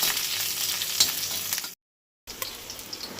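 Garlic cloves, ginger and a green chilli sizzle steadily in hot oil in a pan, a close, continuous frying hiss broken by a short silent gap before resuming.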